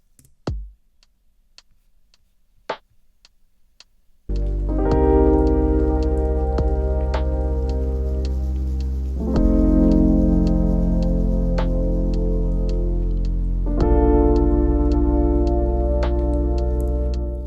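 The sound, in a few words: lo-fi drum beat processed with EQ and RC20, rain atmosphere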